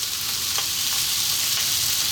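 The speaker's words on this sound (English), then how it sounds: "the onions and the garlic are just taking there, frying nicely" Steady loud sizzling of onions and garlic frying in a pan, continuous crackle with no voices.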